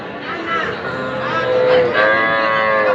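Young bull calves at a busy cattle market low and moo with drawn-out, tonal calls rising over a constant murmur of crowd noise and talk.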